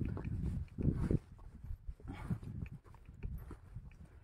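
A horse pulls a cart, its hooves clip-clopping faintly in irregular steps over low background noise, with no clear talking.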